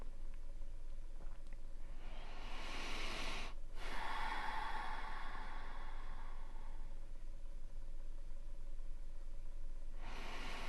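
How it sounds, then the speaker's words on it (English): A slow deep breath, with a soft drawn-in inhale and a longer airy exhale, close over a steady low background hum. "Take a deep breath."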